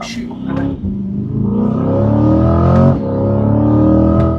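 Chevrolet C8 Corvette Stingray with an upgraded exhaust accelerating hard, a loud, steady engine roar that climbs in pitch through a single sustained pull, heard from close up.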